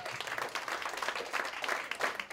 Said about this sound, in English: Round of applause for Nuff